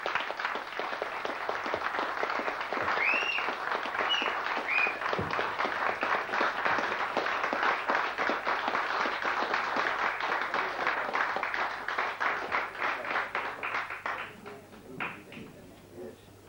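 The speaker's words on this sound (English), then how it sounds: "Give them a big round of applause." Concert audience in Carrickmacross gives sustained, loud, dense applause with scattered whistles and cheers, continuing for many seconds before thinning out and fading near the end.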